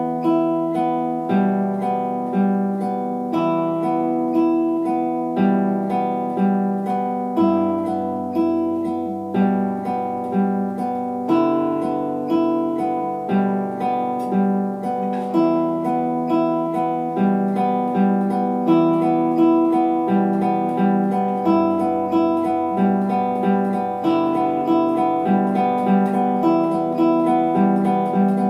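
Acoustic guitar fingerpicked slowly, alternating a 16th-note bass pattern against a triplet bass pattern, with a steady stream of clear plucked notes over repeating bass lines and no talking.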